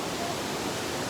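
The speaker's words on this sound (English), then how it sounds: "Oh my god, that's the top of the waterfall." Waterfall at the top of a roughly 30-meter drop near Banlung, Ratanakiri, giving a continuous loud rushing hiss with no break.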